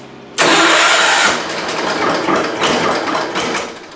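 An Allis Chalmers 310 tractor engine, running very rich with an exhaust leak, cranks and catches at once, then settles into a loud, rough, steady running idle with slight fluctuations, close by.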